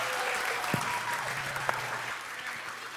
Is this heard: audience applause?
yes